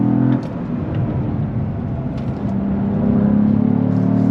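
2022 Cadillac CT4-V Blackwing with twin-turbo engine and six-speed manual, a loud, steady in-cabin engine drone and rumble that climbs in pitch as the car accelerates, with a brief dip partway through.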